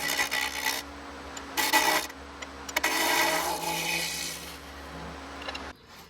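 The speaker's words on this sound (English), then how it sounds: "I'm going to turn them down just using a negative rake scraper." A negative rake scraper cuts a laminated wood bowl spinning on a lathe, giving close rasping scrapes in several bursts of varying length separated by quieter gaps, with a steady low motor hum underneath.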